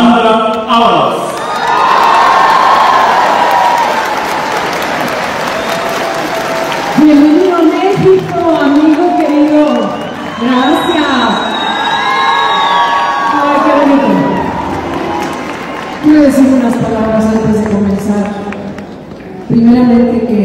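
A crowd at the Metropolitan cheers and whoops for a singer, a loud sustained roar with shouted voices and someone speaking over it on stage.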